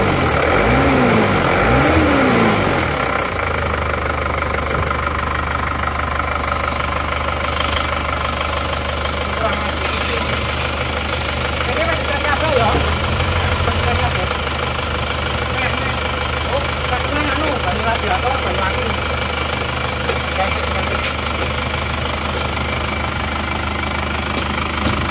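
An Isuzu Panther Touring's engine, with a leaking power steering system, runs steadily at idle, a low continuous hum with a faint mechanical knock, with some brief clatter near the start.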